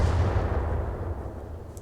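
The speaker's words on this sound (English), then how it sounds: "Ammo explosion." Ammo explosion in the Battletech Roguetech mod: a loud, deep booming rumble that starts hard and slowly decays over a couple of seconds, heavy in the low end, with no talking.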